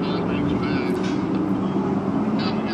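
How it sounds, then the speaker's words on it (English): Stock car engines of the Great American Stockcar Series roaring around the Portland race course on a second lap, a loud continuous droning rumble that stays steady and close throughout. "you can hear those engines straining as they come around for their second lap"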